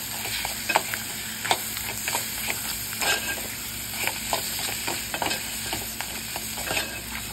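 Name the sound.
stirring crab masala paste in pan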